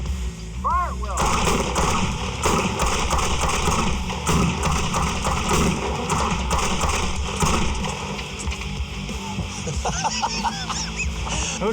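A Smith & Wesson Model 29 .44 Magnum revolver fires six rounds at an SUV and ballistic gel targets on a range, loud sharp reports with echoing tails amid crowd noise and brief shouts.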